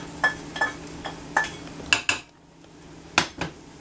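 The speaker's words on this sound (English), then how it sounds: "I'm going to give it a good stir" Mushroom mixture being stirred in a pan, a series of distinct clinking, scraping strokes of a utensil against the metal at an irregular rhythm, close and fairly loud over a faint sizzle.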